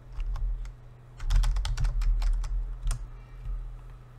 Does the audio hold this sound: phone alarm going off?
no